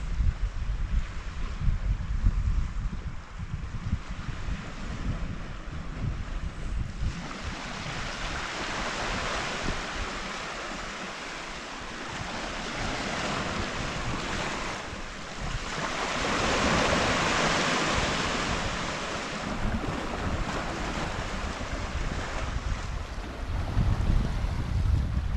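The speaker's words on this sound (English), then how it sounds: "The breeze that's coming in from the sea is actually quite cool" Cool sea breeze and waves washing onto the shore at Camp de Mar, a steady broadband roar with wind buffeting the microphone, swelling and easing in long surges with no voices.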